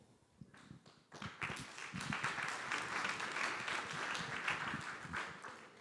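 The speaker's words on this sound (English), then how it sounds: "It's seldom that I get applause before I've even said anything" An audience at a city district elections open house breaks into applause, a few scattered claps first and then a full sustained round of clapping that holds steady to the end.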